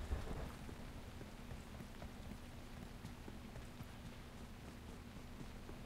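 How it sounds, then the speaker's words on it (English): In the PUBG Mobile video game, steady rain and rumbling thunder form a continuous, fairly loud storm soundscape, with a low rolling rumble under dense patter throughout. "Yeah, volume-wise, we're good on the thunder."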